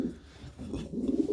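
Pigeons cooing softly nearby in a low, muffled murmur, with a faint background hum and no talking.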